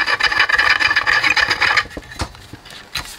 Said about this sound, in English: So, we'll just screw this in.